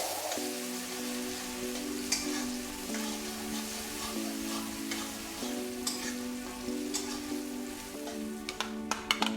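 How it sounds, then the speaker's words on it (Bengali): Finely chopped onion frying in hot mustard oil for chicken tehari, a steady close sizzle with occasional sharper crackles and spatters throughout. "আমরা এটাকে ভাজা ভাজা করে নেব।"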